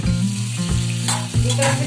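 A vegetarian dish fries in a pan over a medium flame, a loud, close, continuous sizzle broken by the scrape of stirring, with no talking.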